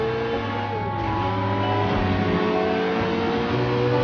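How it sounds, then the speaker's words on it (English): A car engine drones and revs in the Sleeping Dogs driving game, a loud continuous hum with shifting pitch as the vehicle accelerates, steady and close throughout. "This car can go faster than this"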